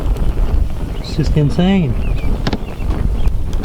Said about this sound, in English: this wind is just outrageous